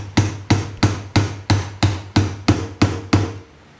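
The handle of an upside-down Phillips screwdriver taps a part into a Wildgame Innovations deer feeder during assembly. Ten sharp, evenly spaced knocks ring out close up, then stop.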